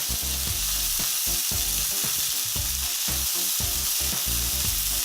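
Burger patty topped with shredded mozzarella frying on a hot pan, a loud, steady, close sizzle with crackling bursts and no talking.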